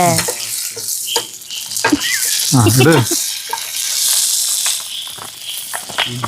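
Frozen paneer cubes, cut large, hitting a hot pan with garlic and sizzling steadily, with a few sharp spatters and stirring scrapes close by while someone talks over the frying.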